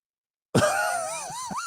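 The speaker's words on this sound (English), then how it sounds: "So you just belching on TikTok" Out of silence, a long, loud, gurgling belch erupts and drags on with wavering pitch until the end.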